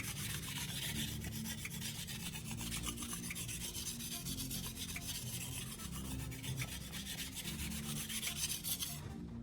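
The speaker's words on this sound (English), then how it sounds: "Once I've established a burr along the entire edge on both sides, I'll flip the stone over to the 800 grit side." A knife is drawn steadily across the 800 grit side of a whetstone, held at a consistent angle by a PVC guide, making continuous close rasping strokes with no talking.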